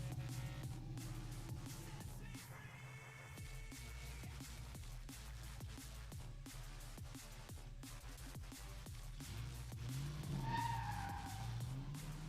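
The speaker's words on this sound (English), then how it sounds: "they're able to accelerate and drift like crazy" Corvette drift cars skid and rev on a track, with repeated tire squeals, screeching slides and roaring engines sounding at a distance, steady and loud throughout with a rising whine near the end.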